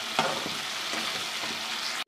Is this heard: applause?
no